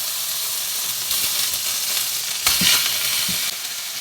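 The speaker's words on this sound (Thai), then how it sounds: "กระทะร้อนแล้วก็ เอาหมูลงไปทอดเลยนะ" Loud, steady sizzling of pork frying in a hot pan, with a few stirring scrapes and bursts of spitting.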